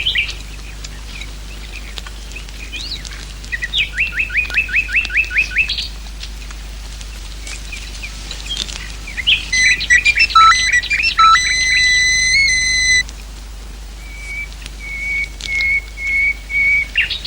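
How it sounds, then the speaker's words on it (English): A nightingale sings out in the countryside, loud and close, with rapid repeated whistled notes, rich trilling phrases and pauses between bursts, set against a faint low hum. "It's a nightingale."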